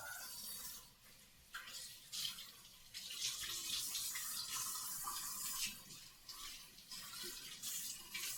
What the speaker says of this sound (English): So, again, washing hands, get all the flour and dough and butter and goodness off of them.